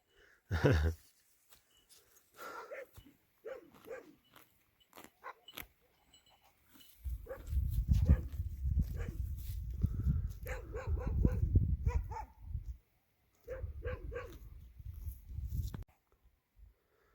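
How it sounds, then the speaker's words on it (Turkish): Two dogs barking and yipping in short bursts near a garbage dump, fairly close, with a stretch of loud rumbling noise, likely wind or handling, in the middle. "şurada iki tane köpek var"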